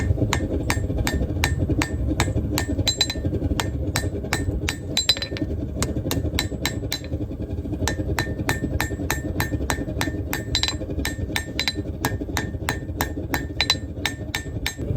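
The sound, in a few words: light hammer shaping steel knife blade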